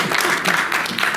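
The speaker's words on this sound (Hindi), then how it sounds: "हाँ बजाओ, ताली बजा सकते हो।" An audience clapping at a poetry recital in a Delhi hospital, a short, dense burst of applause at fairly close range.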